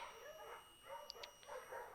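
A German Shepherd barking in the video game Firewatch, heard as a few faint, short barks and yips in quick succession against a quiet background.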